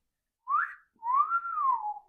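A person whistles a melodic Star Wars tune in two phrases, a short rising note followed by a longer sustained, gently arching line, close and clear with no talking.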